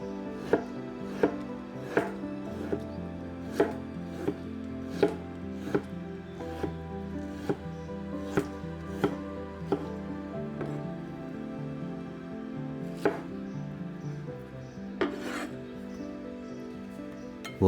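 A knife slices bamboo shoots on a cutting board in sharp, regular chops spaced about a second apart, close and distinct over a quiet kitchen background with faint music.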